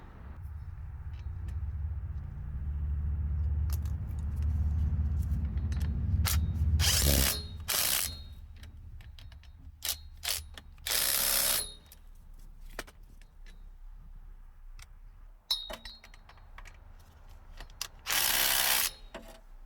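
Drive shaft bolts on a BMW E90 are tightened with a ratchet, giving rapid metallic clicking in bursts, with sharp louder clacks and brief pauses between runs and steady low hum early on.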